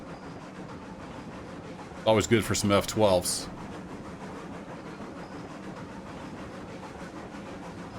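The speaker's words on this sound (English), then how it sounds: "Train looks good snaking through the woods like that." A Cooke Mogul steam locomotive in Railroads Online rolls steadily through woods, with a continuous low rumble and rhythmic wheel clatter. Someone speaks briefly over it midway.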